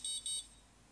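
A TomCat Skylord ESC gives two short, loud electronic beeps in quick succession right after the battery is connected, then goes quiet with only faint background hum.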